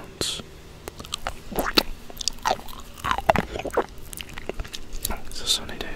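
Mouth sounds from licking and sucking an orange lollipop outdoors in a sunny garden: close, irregular wet clicks, smacks and slurps with soft breathy whispering between them.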